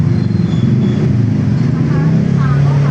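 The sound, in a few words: motorcycle being ridden on road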